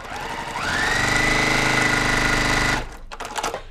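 Sewing machine stitching fast at a quilting tutorial: a loud, close, steady motor whir with rapid needle chatter that rises in pitch, runs for about two seconds, then stops, leaving faint clicks.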